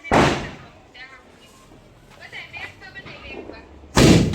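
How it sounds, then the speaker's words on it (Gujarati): Two sharp, loud Diwali firecracker bangs in a village, one at the start and one near the end, with quieter crackles and murmured voices in between. "ચાલો તો દિવાળીના આપણે આ ફટાકડા ફોડ નાખવાના છે"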